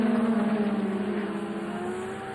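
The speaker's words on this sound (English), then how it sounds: "There it is with the Peter Jackson car getting off." A touring race car in the 1990 Australian Touring Car Championship accelerates hard off the line, its engine note rising steadily and loudly with a buzzy, rasping drone and no talk over it.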